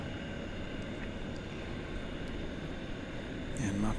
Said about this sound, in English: There's that Cathay A350-1000.